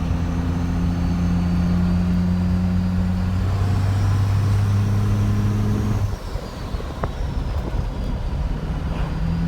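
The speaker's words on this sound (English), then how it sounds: "Freaking turbo sounds sick in person." A first-generation 12-valve Cummins diesel with an HX35 turbo on a Steed Speed T3 manifold drones steadily nearby, its low engine rumble carrying sustained tones and a faint high turbo whistle, dipping briefly after six seconds.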